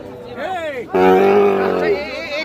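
Sahiwal bull calf, about five months old, gives a rising then falling bellow followed by a longer, louder moo, close by with voices talking around it at a livestock market.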